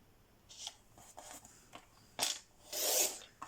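Paper is cut for a handmade Valentine's card, trimmed to 10 by 12.5. Several short rasping cutting strokes come in an uneven rhythm, up close and fairly quiet, ending in a longer scraping cut.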